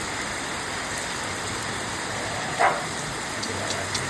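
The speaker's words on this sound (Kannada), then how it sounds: "ಎಂತ ಮಾಡುವುದಾಗುದಿಲ್ಲ ಈ ಮಳೆಗೆ" Heavy rain pours in a steady, dense hiss outdoors, continuous and loud, with one brief nearby splash or knock partway through.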